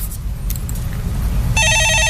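A telephone rings in the studio of a stock-market call-in show, with a loud electronic trilling ring starting partway through over low background noise.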